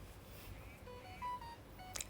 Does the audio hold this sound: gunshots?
no